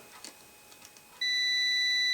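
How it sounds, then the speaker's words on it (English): A multimeter continuity-test beep on a car hood light bulb starts about halfway through and holds unbroken to the end, after a few faint clicks and handling noises. "because we got a beep going through the light bulb"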